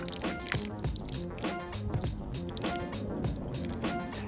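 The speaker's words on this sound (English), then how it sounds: "Almost forgot you gotta water it in." Water poured onto a newly transplanted plant in soil, a close, steady splashing trickle with dripping and gurgling textures throughout.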